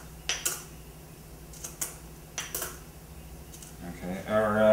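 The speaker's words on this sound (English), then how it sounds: "This is mortar and pestle. And you just grind up your coffee beans." Coffee beans ground in a mortar and pestle: a handful of sharp, irregular knocks and clinks over a low hum, with a voice starting at the end.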